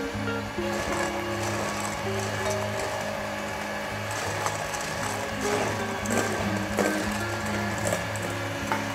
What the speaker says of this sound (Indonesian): Ini kita kocok sampai dia agak stiff peak.